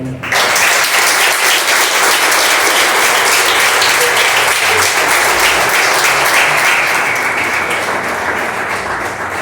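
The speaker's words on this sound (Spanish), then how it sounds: "Dale un fuerte aplauso al Señor." A church congregation gives a strong, sustained round of applause during a preaching service, many hands clapping in a thick, loud, continuous wash that starts abruptly and holds steady, with no talk over it.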